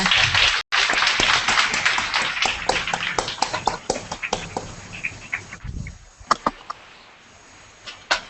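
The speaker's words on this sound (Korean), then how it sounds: "박수로 맞아주시기 바랍니다" Audience applause in a lecture hall greeting a guest speaker at a Korean-language special lecture, dense at first and then thinning into scattered individual claps before fading.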